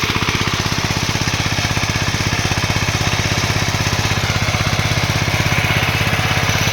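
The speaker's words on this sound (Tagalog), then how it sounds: "ang ating pag-araro gamit ang bago nating nabiling tiller" A Yanmar walk-behind tiller engine churns through a wet, sticky rice field after rain, its loud, steady rapid chugging pulse continuous and close throughout with no talking.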